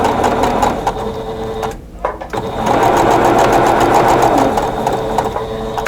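A sewing machine runs steadily, stitching quilt fabric for a ribbon quilt block, with a loud, close mechanical whir and rapid needle chatter that pauses briefly before starting up again.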